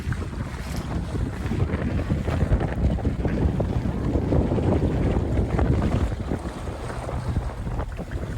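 Strong wind roars steadily and loudly aboard a catamaran, buffeting the microphone throughout, with a dense low rumble and no voices.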